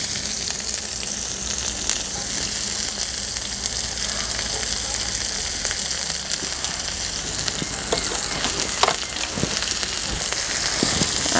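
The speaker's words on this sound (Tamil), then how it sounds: "வெங்காயத்தை பொடி பொடியாக நறுக்கி வதக்கணும்." Finely chopped onions sautéing in hot oil with fennel seeds, a steady close sizzle and crackle with a few sharp pops and occasional stirring, no talking.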